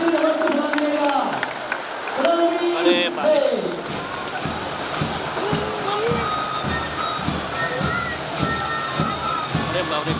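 Rain falls steadily on an outdoor Independence Day flag hoisting ceremony, pattering and splashing close by. People talk over the rain throughout.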